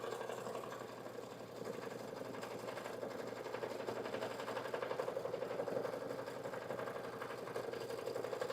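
A home sewing machine stitches a pouch with a continuous, fast mechanical whir and rattle, holding steady and growing slightly louder toward the end, with no talking.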